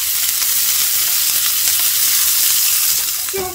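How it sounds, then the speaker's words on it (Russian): Onion frying in a pan, a steady broadband sizzle that holds evenly throughout at close range, with no talking over it. "отправляю обжариваться лук"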